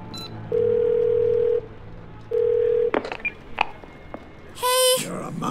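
Phone call tones in the video game 12 Minutes: two long steady ringback beeps with a pause between, a few clicks, then a loud, bright electronic tone burst near the end, heard up close without talk.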